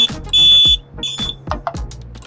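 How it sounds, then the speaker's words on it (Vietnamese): A door-sensor anti-theft alarm sounds loud, high electronic beeping in repeated bursts, with sharp clicks and knocks between the tones, close by. "thì bộ thiết bị của chúng ta sẽ báo động"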